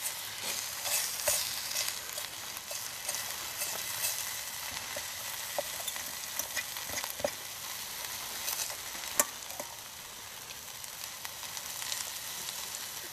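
Thin bacon frying in a pan over an alcohol stove, a constant crackling sizzle with scattered sharp pops and occasional stirring scrapes, heard close up without any talking.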